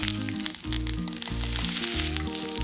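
Washed rice frying in ghee with cardamom, cloves and a bay leaf, a dense continuous sizzle heard under loud, steady background music.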